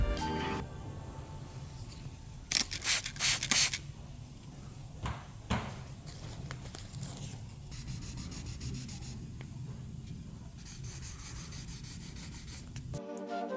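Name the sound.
sanding touched-up stone chips on car paint with 2000 grit sandpaper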